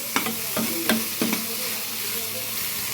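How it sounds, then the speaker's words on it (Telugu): Tomatoes, ginger-onion paste, turmeric and salt with beetroot and carrot stirred in a hot pan, a steady close sizzle with several sharp clinks of the spoon against the pan early on. "టమాటాలు, కొంచెం అల్లం చిన్నులపాయల ముద్ద, కాస్త పసుపు, కొంచెం సాల్ట్ వేసి బాగా కలిపాను."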